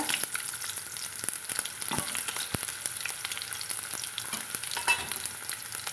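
Small chopped onions hitting hot oil with popped mustard seeds, a steady close sizzle and crackle with a few sharp pops and stirring scrapes, no voices.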